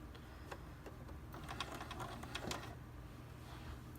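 A home sewing machine tacks down a Bristol casing in short, faint bursts of quick rattling stitches between brief pauses, close and without talk.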